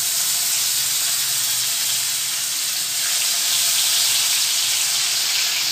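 Crushed garlic cloves hitting hot oil with cumin seeds in a pan, giving a loud, steady, continuous sizzle and hiss that holds throughout without any talking.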